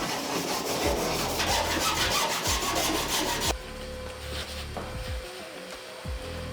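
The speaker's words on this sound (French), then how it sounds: "On va pouvoir passer à l'ébavurage pour enlever la limaille de fer" A freshly cut metal edge on a van roof is deburred with a file in quick, gritty back-and-forth strokes, loud and close, then the scraping eases into softer, sparser rubbing.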